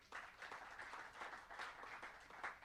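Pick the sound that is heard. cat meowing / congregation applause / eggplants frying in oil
congregation applause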